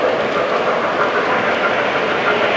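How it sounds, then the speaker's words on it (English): A model steam locomotive from a largely MTH model train layout at a Pennsylvania railroad museum rolls past with a steady, continuous rumbling whir of wheels on track, fairly loud and close, without talk. "Here comes one of the steam engines now."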